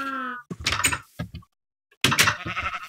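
A sheep bleats once in the video game Minecraft, a short wavering call at the start, followed by other bursts of louder noise and a brief silence.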